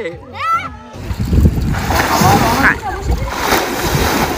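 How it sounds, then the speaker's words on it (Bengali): A child splashes and dances in the water at the beach in Mandarmani, close sloshing and splatter heard under an adult voice talking throughout. "আমার নাচছে আমার সোনা জলের মধ্যে"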